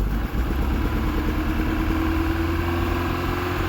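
A Ford Sierra 2.0 SOHC Pinto engine with a Weber 30/34 carburettor runs steadily with the throttle held open, giving a close, continuous mechanical drone and clatter with no voices.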